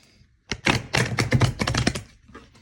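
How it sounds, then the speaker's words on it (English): A deck of oracle cards being shuffled, a quick close run of crisp riffling flutters and soft thumps lasting about a second and a half, with no talk. "I'm giving this deck a good shuffle"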